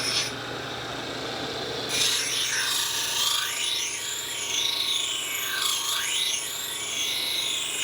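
A stone knife being ground on a sharpening wheel gives a steady close rasping, rubbing scrape that runs continuously, with faint high squealing tones over it.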